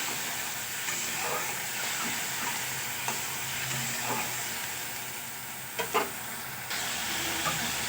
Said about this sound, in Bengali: আদা আর কাঁচা লঙ্কা বাটাটা আমি তেলের মধ্যে ভালো করে নাড়াচাড়া করে নেবো